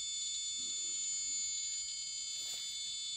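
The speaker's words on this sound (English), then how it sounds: "Attention, dose rate alarm, off the scale, 400 microsievert per hour." A RadiaCode-110 radiation detector sounds its dose rate alarm near uranium, a steady high-pitched electronic tone that stays loud and continuous throughout, with no talk over it.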